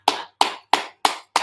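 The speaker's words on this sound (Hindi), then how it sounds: "इसको ताली बजाकर भी करिए।" Five sharp hand claps land at an even, brisk rhythm during a laughter yoga session, close and loud with clean gaps between them.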